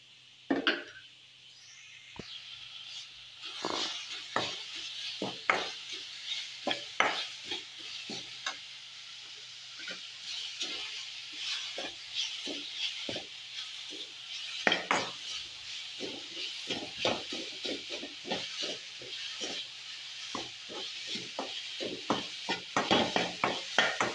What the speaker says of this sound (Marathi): हांव पयलीं हे गोड आनी खोबरें आसा तें गरम करून घेता